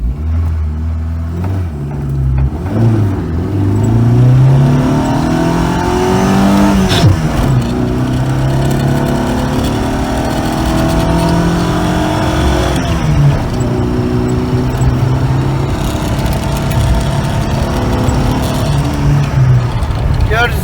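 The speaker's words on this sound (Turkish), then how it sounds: "Yani şimdi ben isterseniz bir de kalkış göstereyim bununla." A Honda RS car launches hard and accelerates, its engine note climbing loudly through the gears in rising sweeps with brief drops at the shifts. Voices talk over the close, continuous engine roar.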